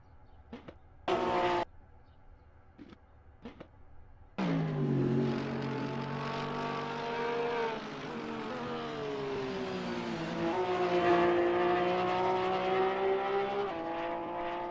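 Race cars in a GT race at Laguna Seca, a Porsche 911 GT3R among them, first buzz in short faint bursts, then one engine climbs into a loud sustained drone that shifts pitch through gear changes.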